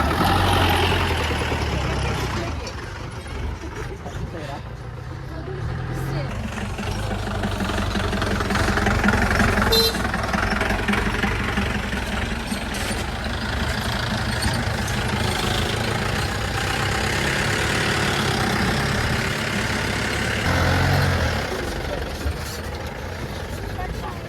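A jeep engine idles with a rough, knocking rumble on a mountain safari at Kolukkumalai, steady and fairly close, while people talk over it.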